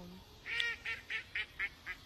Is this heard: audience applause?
no